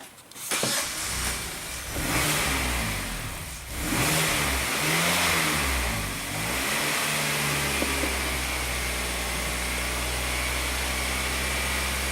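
A Hyundai engine with a mass airflow sensor fault and a P0102 code cranks and starts, then revs up and settles into a loud, steady idle close by.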